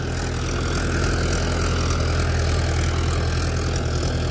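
A Mahindra 575 tractor idles with a steady, continuous low chug that stays loud and close throughout, with no talking.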